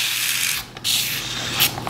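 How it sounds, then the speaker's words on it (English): Water and mousse mixture sprayed from a spray bottle onto a red-brown kinky curly wig, giving a close, steady hissing mist that pauses briefly and then resumes. "I'm just gonna spray it down with the water and mousse combo first"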